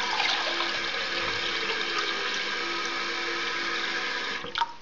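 Water pours steadily into a container for a physics experiment, a continuous close rushing stream that ends with a few brief splashes.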